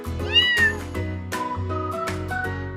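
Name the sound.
cat meowing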